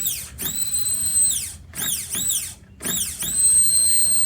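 A 2008 Harley Davidson Rocker C fuel pump, freed after seizing and powered directly from the terminal, whines in several high-pitched bursts that rise and fall like a drill spinning up and down, with short silent gaps between runs.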